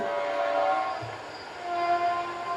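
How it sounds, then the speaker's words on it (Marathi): A train rumbles past close by, with a sustained horn-like tonal drone over a steady low roar. "ती ओळ म्हणताना ट्रेन येते बाजूला"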